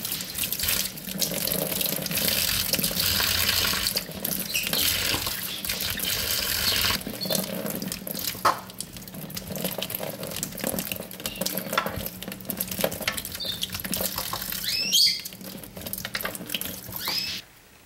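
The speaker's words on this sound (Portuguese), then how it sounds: "Vou começar lavando os moranguinhos" Tap water runs steadily into a sink while strawberries are washed under it, with a continuous loud splashing stream and a few small clinks and handling noises.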